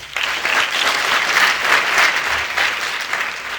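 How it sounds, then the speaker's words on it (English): An audience at a documentary screening event breaks into loud, sustained applause, a dense wash of clapping that holds steady for several seconds before easing slightly. "And I want you to give yourselves a round of applause."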